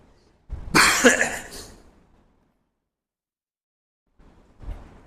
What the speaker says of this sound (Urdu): معذرت مجھے تھوڑا سا کھانسی آ رہی ہے